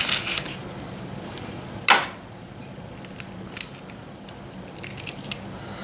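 A knife cutting into a large pepper gives a few crisp, sharp snips and crunches, one louder cut near the middle and lighter clicks after, close and quiet with no talk.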